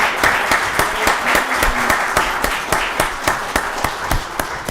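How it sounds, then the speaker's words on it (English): A county board of commissioners work session audience claps for staff members coming forward, dense applause with a few sharp, distinct claps standing out up close. "let's give them a round of applause as they're coming up"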